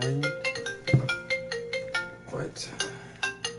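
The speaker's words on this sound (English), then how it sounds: "Is that like really my phone ringing?" A mobile phone ringtone plays a repeating melodic tune of bright electronic tones, fairly close, with people talking over parts of it.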